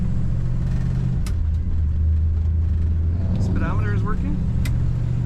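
A 1961 Chevrolet Bel Air two-door hardtop cruises with a steady low engine and road rumble heard from inside the cabin, while someone speaks briefly over it.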